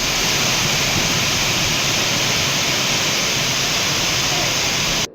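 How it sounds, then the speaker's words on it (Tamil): The Courtallam waterfall in flash flood after heavy rain, a loud, steady, broadband roar of rushing water that fills the whole clip without a break, then cuts off abruptly at the end. "பலத்த மழையால் குற்றால அருவிகளில் காட்டாற்று வெள்ளம் ஏற்பட்டது"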